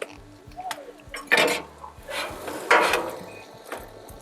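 A metal spatula scrapes and flips a cheesy quesadilla on a Blackstone griddle, giving two short, bright scraping bursts over a low, quiet background hum.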